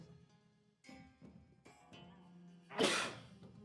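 A single sharp, loud sneeze bursts out near the end, following quieter shuffling and faint background sounds.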